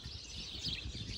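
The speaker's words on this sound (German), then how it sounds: "Hört ihr die ganzen Vögel zwitschern hier?" Birds chirp outdoors on a bright morning as the sun comes out, a soft, fairly distant twittering held low and steady for a moment with no voices.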